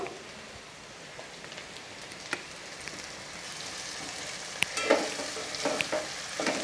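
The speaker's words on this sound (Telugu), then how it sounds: "మనకు కొంచెం ఆయిల్ ఎక్కువ వేసుకొని మంచిగా ఫ్రై చేసుకోవచ్చండి" Okra fries in plenty of oil in a pan with a continuous crackling sizzle, close and steady. Pops and stirring taps grow busier toward the end.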